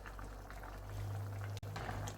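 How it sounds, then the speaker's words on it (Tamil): Water for vegetable biryani rice bubbles and rumbles at a steady boil in a pot, a continuous close churning with a low hum underneath. "அடுத்து வந்து தண்ணி நல்லா கொதிக்குது"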